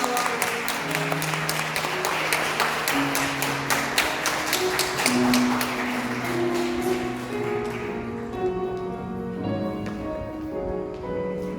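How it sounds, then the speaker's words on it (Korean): Wedding guests applaud at a ceremony in a hall, steady clapping filling the room while background music with sustained tones plays underneath, the applause thinning toward the end. "큰 박수 부탁드립니다"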